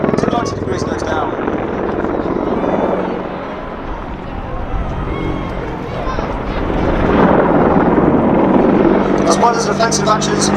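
An AgustaWestland Apache attack helicopter performs a display manoeuvre at an air festival, its loud rotor and turbine roar steady and close, swelling as it pitches through the move.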